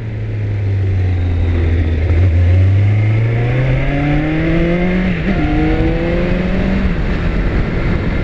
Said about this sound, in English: This bike sounds way different with the stock exhaust back on